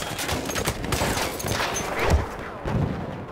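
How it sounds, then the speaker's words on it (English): Rattling machine gun fire in a Battlefield 1 battle, a short dense burst of rapid shots mixed with other gunfire, loud and steady for a few seconds. "machine gun."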